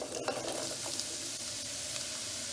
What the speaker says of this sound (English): After this, the zucchini, I saute a little bit like this